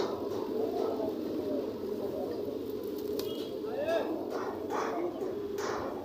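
Fancy pigeons coo softly at Sakhipur market, their calls nearly buried under steady crowd chatter and nearby voices throughout.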